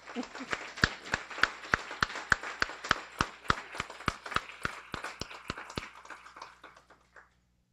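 Audience clapping at a Guide Dog for the Blind graduation ceremony, a steady run of sharp, evenly spaced claps that taper off and stop after about seven seconds, with no talk over it.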